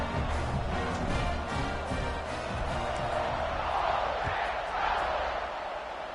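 A stadium crowd roars and cheers in the College Football 26 video game, a dense steady wash of noise at moderate level, with faint commentary beneath.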